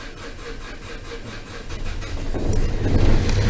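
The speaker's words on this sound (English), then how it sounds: "Dead cold start on the generator" Generator on a 1994 Bayliner 3888 motoryacht starting from dead cold: a rhythmic, chugging crank for about two seconds, then the engine catches and settles into a louder, denser running rumble, close by.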